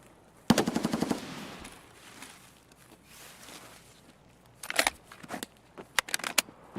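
Rapid automatic gunfire in the video game Escape from Tarkov: a loud, close burst of fast shots rings out, then after a quieter stretch come several shorter, sharp volleys and single cracks.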